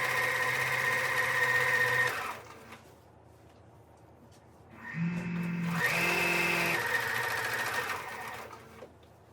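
Steady whir of a sewing machine running a straight seam on a shirt, about two seconds of stitching, a lull with a faint hum, then a longer burst that shifts pitch as the speed changes.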